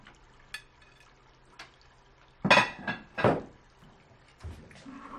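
A plate is set into a kitchen cupboard in a robotics apartment, with a few sharp clinks and knocks of dishes, close and clear against a quiet room.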